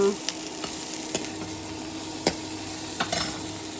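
Onions frying in oil for a pumpkin dish, a steady close sizzle with a few sharp stirring scrapes and clicks in the pan.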